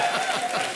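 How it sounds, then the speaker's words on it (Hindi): A comedy show audience bursts into brief, dense applause, a short rush of clapping from a crowd. "जोरदार तालियां होनी चाहिए"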